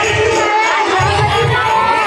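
Dense festival crowd packed around the food stalls at Chhattisgarh Rajyotsav 2019, a continuous close wash of overlapping chatter and shouting voices with no single speaker standing out, steady and loud throughout.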